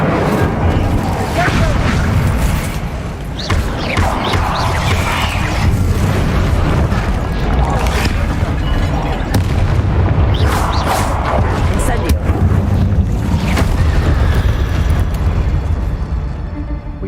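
Incendio fire spell blasts in Hogwarts Legacy, a dense run of loud booming bursts and crackling explosions rolling almost continuously, with a voice speaking over the clamor.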